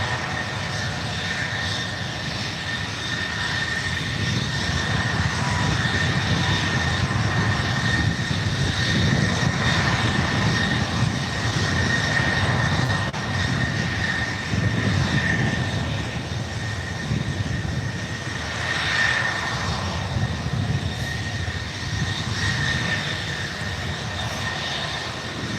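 An Air Canada Boeing 737 Max 8 takes off from San Francisco bound for Vancouver, a sustained distant jet rumble with steady high whining tones that ebbs and swells over nearly half a minute.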